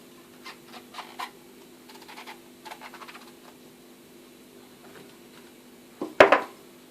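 A teaspoon scoops the flesh out of washed zucchini halves: scattered light taps and clicks, then a sharp, louder scrape near the end, with no talking.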